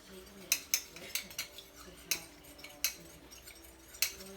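A spoon stirs a sauce mixture for chicken with broccoli in a bowl, giving a run of sharp, uneven clinks and scrapes against the dish, close by and fairly loud, with no voice during the stirring.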